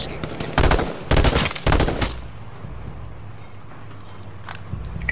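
Machine gun fire in the PlayStation 4 game H1Z1, several loud rapid bursts close together in the first two seconds, then quieter ambience with a faint distant shot.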